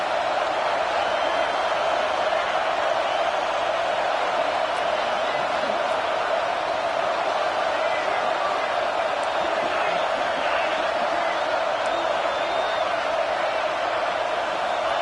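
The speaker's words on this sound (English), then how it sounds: "Decibels rising as the crowd gets behind this defense on 3rd down." A football stadium crowd at a Clemson vs LSU game roars steadily on a third-down defensive stand, a dense, sustained wall of noise that never lets up.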